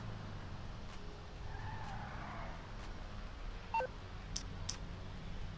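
A phone dials in the GTA V game to order a vehicle. A few brief electronic beeps sound over quiet car and skidding noise from the game.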